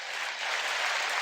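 A short, steady wash of applause, moderately loud and even throughout, with no voices over it.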